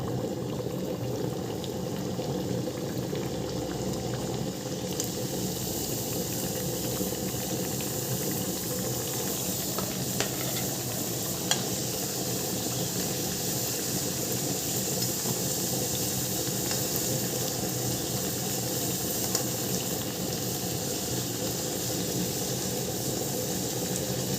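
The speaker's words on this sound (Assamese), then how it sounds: "এতিয়া তেল গৰম হ'ল, তাত মই এতিয়া এটা এটাকৈ এই মথৰিকেইটা দি যাম।" Mathri, a fried snack, frying in hot oil after being added piece by piece: a steady, dense sizzle and bubbling that stays even throughout, close by, with a few faint clicks and no voices.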